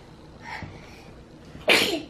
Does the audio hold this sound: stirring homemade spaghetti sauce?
no